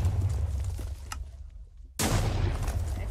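Tank cannon firing armor-piercing shells in a modded tank video game: a rumbling barrage fades to near silence, then a sudden loud shot bursts in with a booming, sustained roar.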